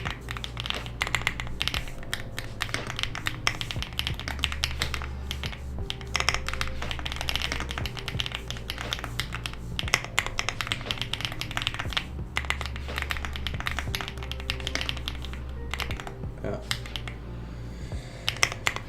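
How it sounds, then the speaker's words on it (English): Typing on a computer keyboard while working on a user interface library, rapid irregular clicks and taps in bursts close to the microphone, over a low hum with soft background sound throughout. "I haven't touched this keyboard in so long"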